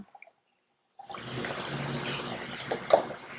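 Strained strawberry liquid pours for homemade strawberry lemonade, a sudden steady trickling stream starting after a brief silence, close and moderately quiet, with a small splash near the end.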